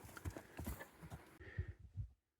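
A young horse, eight months old and large for his age, walked by hand with hooves clip-clopping in a loose, uneven rhythm, fairly close, before the sound stops abruptly.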